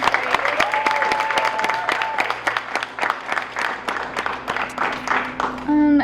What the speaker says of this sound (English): Can we please give a round of applause to all the performances?